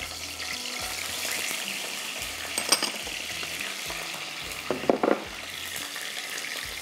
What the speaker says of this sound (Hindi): ये अचारी मसाला है, सौंफ, कलौंजी, राई, मेथी दाना और कड़ी पत्ते। ये जाएंगे पहले ऑयल के अंदर।